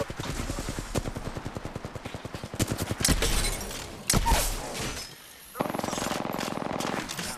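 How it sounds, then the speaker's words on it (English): Rapid automatic gunfire in the Apex Legends battle royale game, dense bursts of repeated shots rattling through most of the clip with brief pauses, loud and close. "Opening fire on the enemy."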